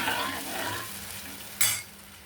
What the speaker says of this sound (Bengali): নেড়ে দিচ্ছি, কিছুক্ষণ ভেজে দেবো মশলাটা